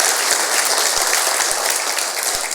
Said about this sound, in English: Let's give Vernon Jones a big round of applause here.